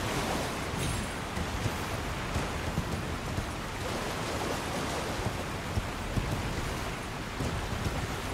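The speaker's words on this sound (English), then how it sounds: "Always have to check behind the waterfalls." Rushing waterfall in the Elden Ring video game, a continuous loud broadband roar of falling water that stays steady throughout.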